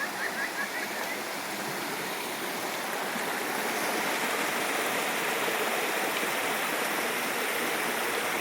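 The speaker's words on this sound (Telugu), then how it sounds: "ఇక్కడ వాటర్ ఫాల్ చూడండి ఎంత బాగుంది నీట్గా." A waterfall in the Munnar botanical garden gives off a steady, even rushing roar of falling water that holds constant throughout, moderately loud and unbroken.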